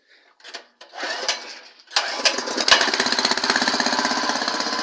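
A walk-behind tractor engine, refitted with a replacement motor and a homemade cast-aluminium pulley, is cranked with a few rough catches, then fires and settles into a loud, close, rapid chugging idle in neutral.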